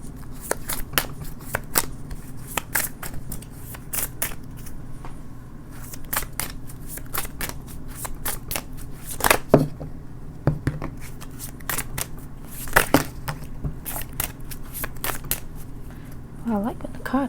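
Tarot cards are shuffled by hand in a run of quick crisp riffles and flicking snaps, close and fairly loud, with a few sharper slaps and speech between them.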